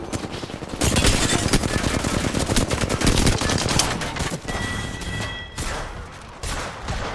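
Rapid automatic gunfire from a weapon in the video game Apex Legends, dense sustained bursts of shots, loud and close, with a brief pause and then more firing.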